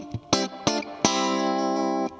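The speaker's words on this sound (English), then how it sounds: "It's known for having a bright, clean, twangy kind of sound like this." Bright, twangy clean electric guitar played through the Vibrolux channel of a Fender Super Sonic amp, about 40 watts: a few plucked notes, then a sustained ringing chord, loud and close with no voice.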